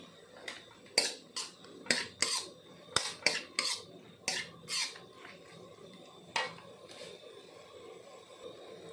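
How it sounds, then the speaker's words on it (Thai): Beef being stir-fried in a pan for a southern Thai khua kling curry, heard as a string of sharp metal spatula scrapes and clinks against the pan over a low background hiss, with no talking. "ขั้นตอนแรกเราก็นำเนื้อนะครับ ลงไปผัดเลยนะครับ"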